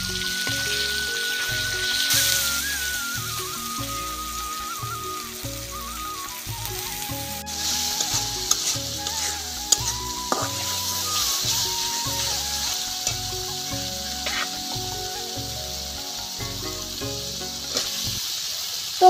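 Masala spices fry and are stirred in a pan in a village kitchen, giving a steady close sizzle with scraping strokes under continuous background music.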